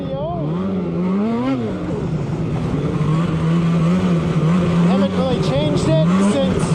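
A Polaris Switchback Assault 850 snowmobile rides a trail, its engine droning and rising and falling in pitch as the throttle changes, loud and close.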